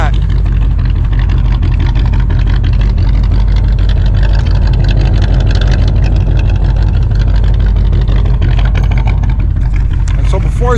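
A 1967 Chevy engine runs rich, idling as a loud, steady, low rumble that goes on throughout without a break.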